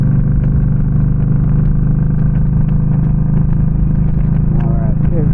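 Steady low rumble of a Yamaha V Star 1300 Deluxe motorcycle engine cruising at about 40 mph in a high gear, constant and close with wind noise, while a rider talks over it.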